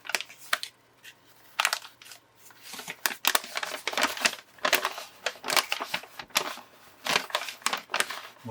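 Paper packaging crinkling and rustling as a mail-call parcel holding a Leatherman multitool is unwrapped, close and uneven with sharp crackly bursts and brief pauses.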